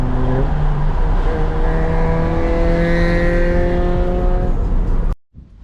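A VTEC-engined car downshifting and revving hard: a loud, close engine roar with rising and falling harmonic tones as gears change, sustained for about five seconds before cutting off abruptly.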